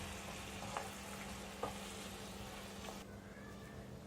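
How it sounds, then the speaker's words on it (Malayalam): Steady bubbling and sizzling from okra curry boiling in a pan with a few soft clinks of a utensil, continuous and close, no voices. "അപ്പോൾ കറി തിളച്ചു തുടങ്ങിയിട്ടുണ്ട്"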